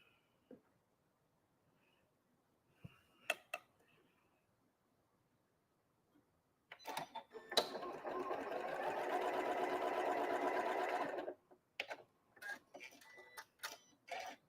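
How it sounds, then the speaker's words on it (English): Sewing machine stitching quilt block pieces together along a marked line: a steady, loud mechanical whir lasting several seconds, preceded by scattered clicks and handling taps and followed by a few more sharp clicks. "line the B piece up and the A piece this way, and sew on the line."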